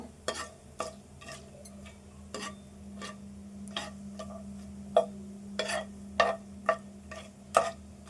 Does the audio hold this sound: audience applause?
no